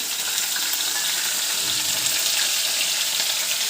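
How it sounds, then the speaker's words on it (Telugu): Green chilies sizzle and crackle in hot oil in a pan, a steady close frying hiss with occasional light stirring. "పచ్చిమిర్చి వేసి ఫ్రై చేసుకుందాం"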